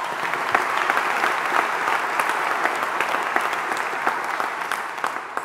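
Steady, dense applause from a graduation ceremony audience at Greenwich, many hands clapping evenly and fairly loud throughout, with no talk over it.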